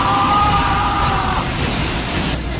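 A man yells and screams as a dramatic effect in a Hindi ghost story: a loud, strained cry at the start that breaks into rough shouting and fades into noise.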